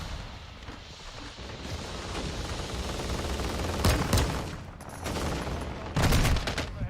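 Pistol shots ring out during a Call of Duty Modern Warfare 2 match, with a few sharp cracks cutting through a dense wash of distant battle noise and background game effects.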